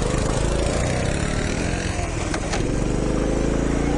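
A small, rugged engine with a choke and idle fault runs unevenly, a steady close-up rough idle with slight surging that continues throughout without pause.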